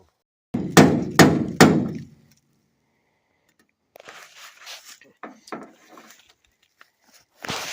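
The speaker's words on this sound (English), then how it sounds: "Stood there just taking a chisel, making a mark to get the saw started" A chisel struck against the metal bedside of a 1972 Ford truck, three sharp, loud, ringing hits in quick succession, close by, followed by a quieter stretch where a person talks.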